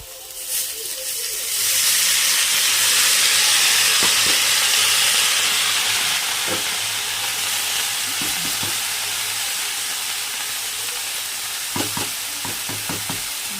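Kunka greens sizzle and hiss steadily as they fry in a hot pan, with the crackle swelling after they go in and soft scraping stirs and taps from a utensil toward the end.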